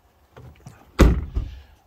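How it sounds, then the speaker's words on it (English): Doors of a Yukon Denali XL swing shut after it was driven through deep water, producing a solid heavy thud followed by a second, softer clunk, close and alone. "If I close these doors,"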